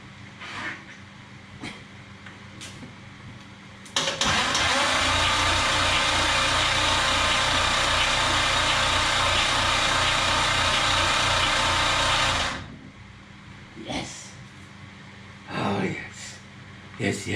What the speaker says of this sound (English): I'm going to try using the starter solenoid up here and see if that does it.